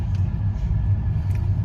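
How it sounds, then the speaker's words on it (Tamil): Heavy road traffic on city streets during summer road works, a dense and continuous low rumble of engines that holds steady throughout with no voices. "பயங்கர டிராஃபிக்கா இருக்கு"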